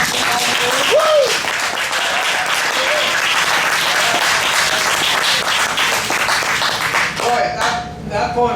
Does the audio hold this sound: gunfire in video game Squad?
no